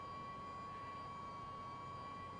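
An aircraft engine starts up inside a flight simulator game, a faint, steady turbine hum with a thin high whine that stays constant throughout and has no other sounds over it.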